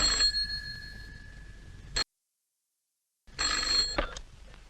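An electronic telephone ring trills twice, a bright warbling tone, broken by a stretch of silence before the second burst.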